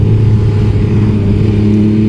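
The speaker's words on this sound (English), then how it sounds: "this is a high revving, high performance sports bike" An MV Agusta Superveloce 800 sports bike engine roars loud and steady at high revs, a dense, sustained drone with no pauses.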